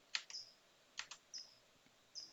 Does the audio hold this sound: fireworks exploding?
no